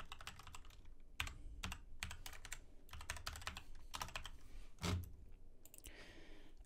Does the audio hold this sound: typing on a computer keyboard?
yes